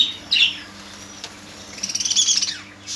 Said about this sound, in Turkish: Bunlar misal gayet güzel kuşlar.